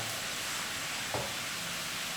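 Steady hissing sizzle of an egg frying in a hot pan, constant and fairly faint, with a brief louder clink or splash midway.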